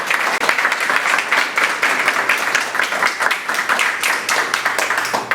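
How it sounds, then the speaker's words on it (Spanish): Audience applause at an anniversary ceremony honouring Jorge Basadre, steady clapping from a crowd throughout, dense and fairly close, with no speech over it. "Fuerte aplauso."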